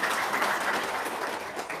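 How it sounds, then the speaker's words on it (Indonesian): A gathered audience claps in a short, loose round of applause, close and steady, with no voices over it. "Tepuk tangan dong"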